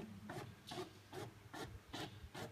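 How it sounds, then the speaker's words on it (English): A homemade autocorrect machine feeds paper like a printer, giving six regular scraping, rubbing strokes about half a second apart, soft and close with no speech. "Now we're gonna put the paper in the printer, in the autocorrect machine."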